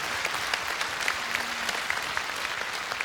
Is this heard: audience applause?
yes